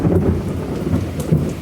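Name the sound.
rain falling in first monsoon downpour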